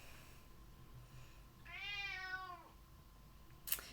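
A single drawn-out cat meow rising and falling over about a second, fairly close and clear in a quiet room, followed by a brief sharp click.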